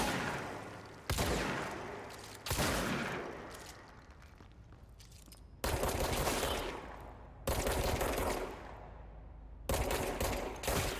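Bursts of automatic gunfire from the player's weapon in the video game Control, four loud sustained volleys separated by short pauses, with no talk over them.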